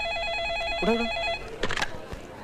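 A telephone bell rings in a quick warbling trill, fairly faint, then cuts off and is followed by the clatter of the receiver being picked up.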